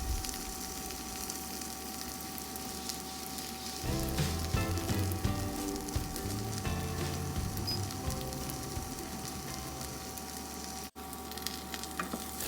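Bacon topping sizzles on okonomiyaki in a frying pan, a steady close crackle that grows louder and busier partway through, with occasional light scrapes.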